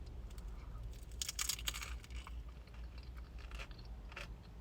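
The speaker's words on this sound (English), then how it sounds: "I've stuffed some crisps in the egg one. Let's give it a squish and a crunch." Bites and crunches into an egg mayo brioche roll stuffed with crisps, a Marks and Spencer sandwich, with several close crunchy chewing bursts over a low steady background hum.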